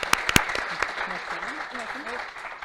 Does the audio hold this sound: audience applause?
yes